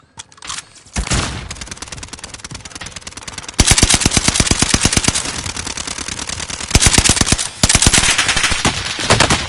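Loud, close rapid-fire automatic gunfire from enemies in an online multiplayer shooter, sustained bursts of machine-gun rounds rattling in a dense continuous rhythm, briefly pausing and restarting several times.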